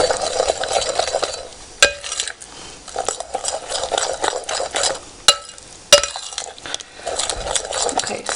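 Low carb muffin batter made with coconut oil being mixed in a bowl, a close, wet stirring churn with rhythmic strokes and a few sharp clinks of the utensil against the bowl.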